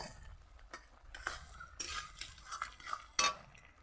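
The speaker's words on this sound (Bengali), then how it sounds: "আর একটু নেড়ে চেড়ে নেব" Hog plum pickle being stirred in a pot of sugar syrup, with scattered light scrapes and metallic clinks of a spoon against the pan, soft and intermittent.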